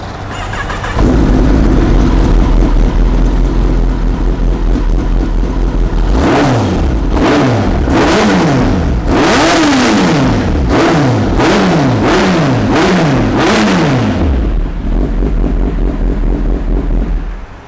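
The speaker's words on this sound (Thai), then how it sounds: "เดี๋ยวลองฟังเสียงเครื่องยนต์กันดูนะครับ" A 2019 Kawasaki ZX-10R sport bike with an aftermarket exhaust idles loudly, then snaps through a run of sharp throttle blips whose revs climb and fall repeatedly, before settling back to a steady idle. No one speaks.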